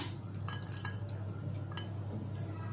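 Cooled tempering stirred into cauliflower pickle with a spoon, soft scraping and light clinks against the bowl over a steady low background hum, no talk.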